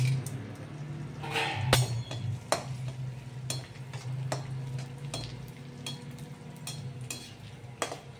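Methi laddu mixture roasting in hot ghee as it is stirred, a continuous frying sizzle broken by repeated scraping strokes and light clinks of a spoon against the pan, close and fairly quiet with no talking.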